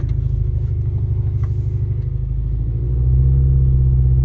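A manual-shift car picked up at auction idles with a low, steady engine rumble up close, the pitch and loudness rising slightly partway through as the engine is revved or loaded.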